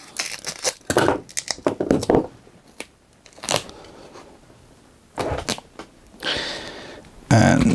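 Fiber tape being pulled off the roll and wrapped around a battery BMS on a DIY LiFePO4 pack, with sharp tearing and crinkling bursts separated by short quiet gaps, close by.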